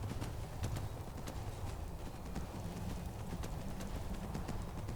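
A horse gallops nonstop in the Skyrim video game, rapid rhythmic hoofbeats drumming steadily and loudly with no pauses, no voices over them.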